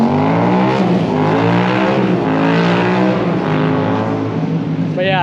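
Stunt bike engine revving hard, pitch climbing through quick gear changes in a continuous loud whine, close by, with another rising rev at the end.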